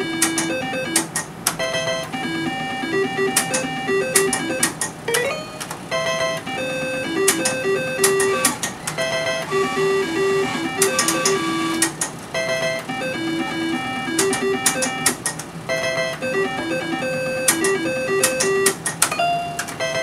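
A Hot Peppers slot machine being played with its arm handle gives off a steady run of electronic jingles, chimes and beeping tones in repeating bursts, close and bright, with no talking.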